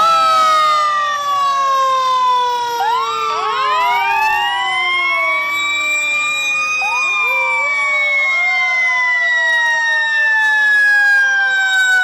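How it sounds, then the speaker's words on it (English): Fire engine sirens wail continuously and loudly during a St. Patrick's Day parade in Newark, several overlapping tones rising and falling at once, with no talking. "We love to hear those sirens in a parade, not for real."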